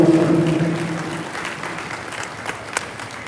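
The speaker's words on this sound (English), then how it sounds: "Let's give a round of applause." Audience applause at a junior cattle show, a dense burst of clapping that starts strong and gradually thins and fades over a few seconds, with a single sharper clap near the end.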